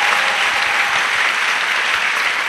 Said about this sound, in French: Let us clap for this brother.